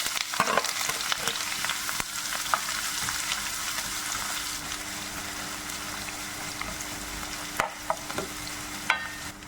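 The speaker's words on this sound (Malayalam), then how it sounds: "കടുക് പൊട്ടി വരുമ്പോൾ അതിലേക്ക് ഒരു വലിയ സബോള അരിഞ്ഞത് ചെറുതായിട്ട് അരിഞ്ഞത് ഇട്ടിട്ട്" Finely chopped large onion frying with popped mustard seeds in oil, a steady close sizzle and crackle with occasional sharp pops and stirring clicks, no speech.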